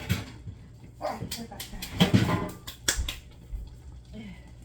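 Dogs in a home kitchen give short scattered yips and barks amid clattering, with a person talking nearby while chicken and dumplings cook.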